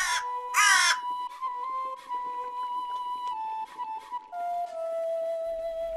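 Several crows caw loudly and close in a quiet setting beside a Buddhist temple among tall pine trees in Japan, a harsh burst of calls at the start, then a steady faint tonal hum for the rest.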